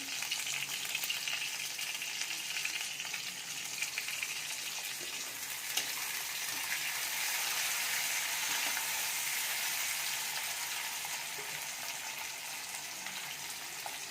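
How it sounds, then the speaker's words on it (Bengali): Tomato, green chillies and panch phoron fry with lightly browned onions in a pan, giving a continuous loud hiss and sizzle that swells in the middle, with faint stirring underneath and no voices. "এর মধ্যে টমেটো দিয়ে দেব, দুটো কাঁচা লঙ্কা, একটু পাঁচফোড়ন"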